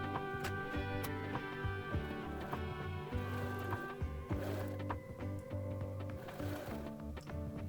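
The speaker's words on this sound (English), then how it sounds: "When that's finished, we are going to sew the centerpiece." A sewing machine runs in steady, rhythmic mechanical bursts while stitching a tote bag centerpiece sandwiched in double-folded bias tape, with short clicks and brief pauses, close by and with no talking.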